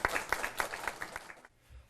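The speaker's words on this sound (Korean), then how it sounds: "큰 박수 부탁드립니다" A small group claps at the unveiling ceremony for South Korea's newly created Corruption Investigation Office for High-ranking Officials. The rhythmic applause is close and moderately loud for about a second and a half, then cuts off.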